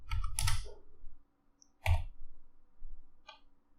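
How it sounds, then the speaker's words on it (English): Keys tap on a keyboard as a verification code is typed, a few quick clustered keystrokes followed by separate single presses, close and fairly crisp in a quiet room. "I'm gonna type the code here"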